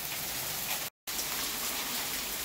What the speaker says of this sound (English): look at all that hail